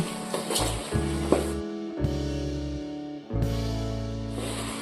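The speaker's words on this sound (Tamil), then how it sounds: "இப்போ உப்பு சேர்த்து தக்காளி கூட நல்லா வதக்கி விட்டுருவோம்" Tomatoes with salt sauté in hot oil, a steady close sizzle broken by scraping stirs and a couple of clanks, with a low hum running underneath and no voices.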